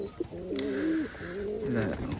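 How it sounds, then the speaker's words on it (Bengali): An old-breed Khulna highflying pigeon coos nearby in two low, throaty warbling phrases with a short pause between them, clear and fairly close. "খুব ডাকতেছে আমার চট জেনারেশনের একটা কবুতার"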